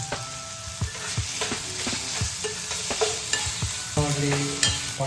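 Onions frying in a pan with salt for aloo sagu crackle and sizzle up close, while a spatula scrapes and knocks against the pan in repeated irregular strokes.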